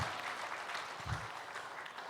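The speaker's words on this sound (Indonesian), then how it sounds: "Nah, tepuk tangan boleh tepuk tangan." Brief, faint applause from the audience at a marriage seminar, a soft smattering of clapping that stays low throughout.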